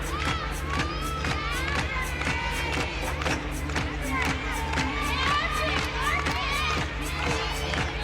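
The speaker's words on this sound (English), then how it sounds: "you could really hear them cheer you on" The Georgia Gym Dogs gymnastics team cheers and shouts at a college meet, with bursts of high-pitched yelling and whoops throughout, a loud and lively crowd close by and a few claps mixed in.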